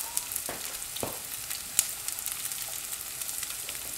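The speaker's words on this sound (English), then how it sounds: "Oh, it's sizzling. Sizzling pretty hot, so go ahead and put your sausage in there." Breakfast sausage sizzles steadily in a hot frying pan, a constant loud crackle with a few sharper pops and spatula scrapes.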